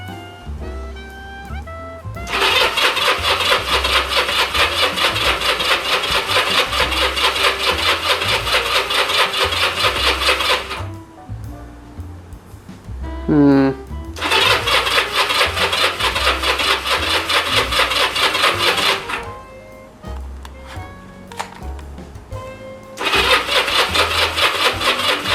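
Motorcycle engine cranking repeatedly on a project bike bought off Craigslist, three long whirring bouts of the starter with rhythmic chugging, loud and close, separated by short pauses with clunks, never catching.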